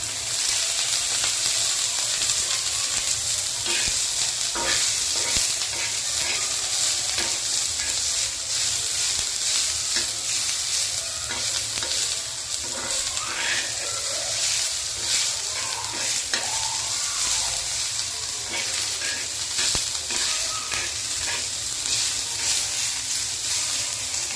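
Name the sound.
onion being stirred and fried in oil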